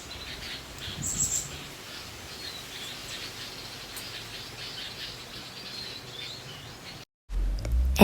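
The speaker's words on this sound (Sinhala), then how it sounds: "ඇහෙනව නේද වටේ කුරුල්ලන්ගේ සද්දේ?" Birds chirping outdoors among trees around a house, scattered faint tweets and calls over quiet ambient background, fairly distant.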